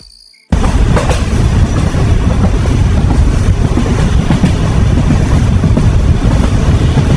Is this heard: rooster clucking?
no